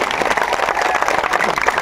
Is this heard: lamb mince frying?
no